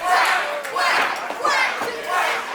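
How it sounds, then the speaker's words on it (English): A wrestling crowd in the Action Building roars and chants in rolling swells, a loud, dense mass of voices filling the hall across the whole stretch. "Great crowd here in the Action Building"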